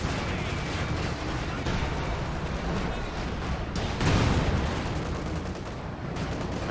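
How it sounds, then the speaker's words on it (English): High-explosive shell fire in the Company of Heroes 2 strategy game, a dense continuous clatter of gunfire and blasts with one heavier boom around the middle, loud throughout. "See how effective those HE rounds are?"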